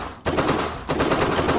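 Dense automatic gunfire from the VR shooter Crisis VRigade, with loud rapid bursts that fill most of the moment, broken only by a brief pause near the start.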